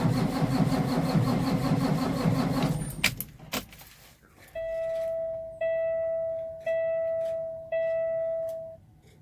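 A Peterbilt truck engine cranks over and over after a fuel filter replacement, trying to draw fuel, in repeated bursts, each starter whir running a second or so before stopping, with a steady high tone ringing underneath.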